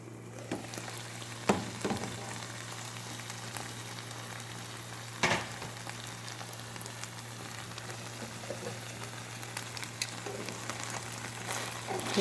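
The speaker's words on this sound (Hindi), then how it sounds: "अब मैं इसको थोड़ी देर ढक के पकाती हूँ।" Fish frying in a covered pan, a steady low sizzle with soft crackles and a few sharper pops and clatters, continuous and fairly quiet with no talk.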